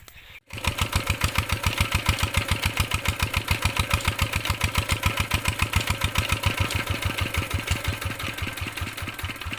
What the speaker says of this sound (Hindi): अभी जाके इंजन बंद करेंगे